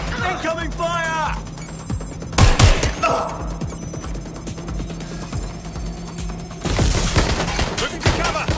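Sporadic gunfire pops and a louder burst of shots ring out in a Watch Dogs Legion firefight, scattered cracks over steady background hum, with a brief voice early on.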